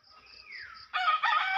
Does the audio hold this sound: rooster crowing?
yes